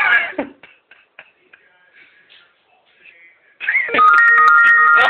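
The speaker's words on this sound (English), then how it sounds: "Oh, I get a text message." A phone chimes a text message notification, a loud, clear electronic tone that rings out near the end after quieter shuffling and a few light knocks.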